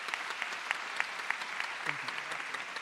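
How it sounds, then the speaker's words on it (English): Audience applause closing a panel session at a cultural equity symposium, a steady wash of clapping with a few sharper claps standing out, fairly faint and somewhat distant, with no talk over it. "Please say goodbye with a round of applause to this panel."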